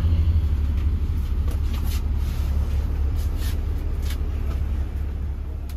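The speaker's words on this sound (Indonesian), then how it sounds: "akhirnya bus tiba di pemberhentian yang kedua untuk servis makan yang kedua kalinya" An intercity bus on a Bali to Jakarta route pulls into a roadside rest stop with a steady low engine rumble and a hiss of road noise, heard close from inside and staying constant throughout, with no voices.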